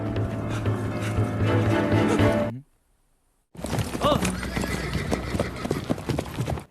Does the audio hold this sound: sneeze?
no